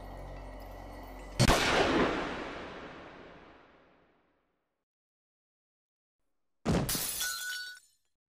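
A gunshot in a Steins;Gate anime scene: a loud sharp crack that tails off over a few seconds into silence, then a second brief burst with a thin ringing tone, with no voices.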